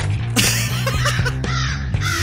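Crows cawing several times in a skating video game, the harsh calls repeating over a steady low hum of game music and a busy mix.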